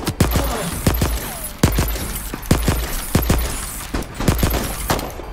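A weapon in the game Voidtrain fires in sharp, loud single shots at a steady, slightly uneven pace, roughly two per second, each crack standing alone over a faint ambient background.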